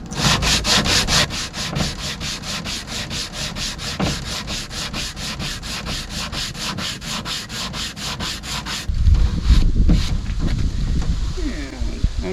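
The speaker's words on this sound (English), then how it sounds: "I'm just going to go over it with some sandpaper now to smooth it out" Coarse 60 grit sandpaper rubs back and forth over the feathered scarf joint of a wooden boat planking plank, a steady loud rhythmic scratching that shifts to a rougher, heavier rasp near the end.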